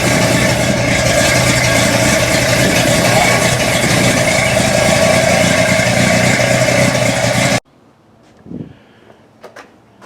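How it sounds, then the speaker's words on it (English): A newly installed car engine idles steadily with its exhaust freshly painted and the carburetor still unadjusted, a loud continuous rumble that cuts off abruptly near the end, leaving quiet room noise and a few faint knocks. "I'm letting it run a little bit to bake this paint on this exhaust and the engine, of course."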